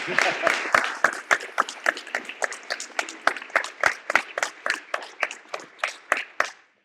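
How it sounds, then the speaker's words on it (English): A small audience applauding the Phoenix staff at a health sciences center dedication, a thin scattering of distinct claps in a loose, uneven rhythm that thins out and stops after about seven seconds. "Yeah, please applaud them."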